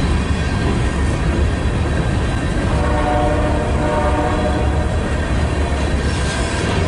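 A long freight train rolls past nearby at a rail junction in Fostoria, Ohio, with a steady loud roar of wagons and a sustained horn blast over it, and no voices.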